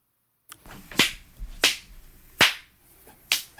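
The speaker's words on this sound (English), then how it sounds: "God, I feel like these are weak claps" Four sharp, fairly weak hand claps ring out at uneven intervals after a moment of silence, each a brief crisp slap with a little room echo, nearby and otherwise alone.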